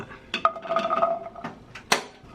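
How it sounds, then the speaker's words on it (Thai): A metal pan clatters and clinks as a spoon scrapes and stirs Thai chili paste ingredients, shallots first, dry-roasting for olive chili dip, with sharp knocks and a short ringing tone near and fairly loud. "ครูจะเอา เครื่องน้ำพริกเนี่ยมาคั่ว"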